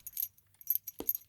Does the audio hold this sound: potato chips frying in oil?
no